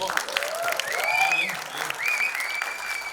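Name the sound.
audience applause for Sonam Bajwa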